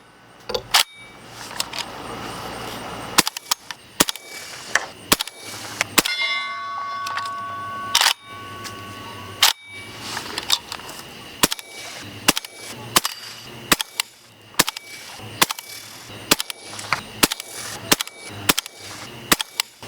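Suppressed gunshots from a Resilient Suppressors Putnik suppressor: a long series of sharp, close reports at irregular intervals, several of them leaving a bright metallic ring. No one speaks.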